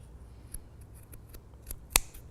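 Scissors make several quiet snips while trimming paper, a few soft cuts followed by one sharp, louder snip near the end, close up in a quiet room.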